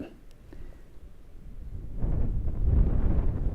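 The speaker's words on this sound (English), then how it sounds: "Here comes another burst of wind" A burst of wind sweeps through an outdoor long-range sniper shooting position, a low buffeting rumble against the microphone that swells noticeably partway through and stays strong to the end.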